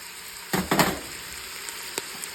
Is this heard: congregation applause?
no